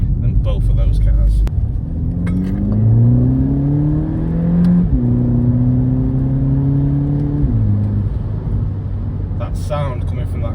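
A Volkswagen GTI engine revs repeatedly through a loud, throaty custom Milltek exhaust, pitch climbing and dropping between gear changes, close and dominant.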